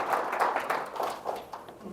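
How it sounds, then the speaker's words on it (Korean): Lecture audience applauding together, a steady dense wash of claps lasting about two seconds with no voice over it. "이거 박수 한번 주세요"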